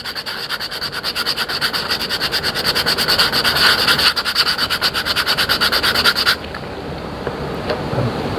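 Rough, steady rasp of 80 grit sandpaper worked by hand over wood in a crack, a close and loud scrubbing with quick rhythmic strokes that lighten near the end.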